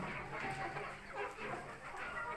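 Young pullets cluck softly and continuously inside a coop freshly laid with bedding, feeders and drinkers, a low, busy chatter heard from close by.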